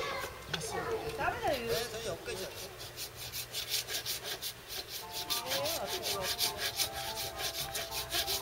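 A hand saw cuts through wood in steady, rhythmic back-and-forth strokes at a quiet, close level, while people talk over the sawing.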